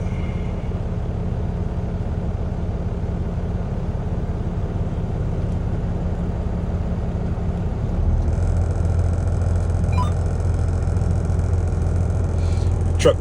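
A truck engine idles while warming up, giving a low, constant rumble that steps up louder and fuller partway through and holds steady to the end, with no talking.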